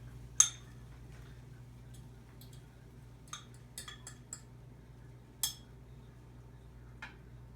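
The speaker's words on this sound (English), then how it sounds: "Starting to get frothy, so we're going to take it, stir it around a little bit" Frothy shave soap stirred in a container: a handful of sharp clinks and taps scattered over several seconds, rising from a steady low hum, with no talking.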